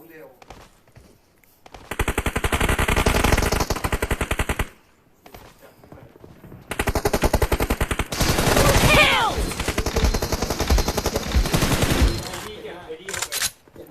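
Rapid automatic gunfire in a PUBG Mobile team deathmatch comes in two long, loud, dense bursts separated by quieter gaps, with excited voices talking between the volleys.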